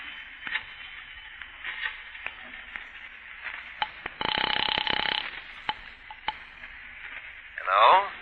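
A telephone effect plays in a 1940s radio suspense drama: a burst of rapid dial or ringing clicks sounds in the middle, set among sparse clicks and faint background.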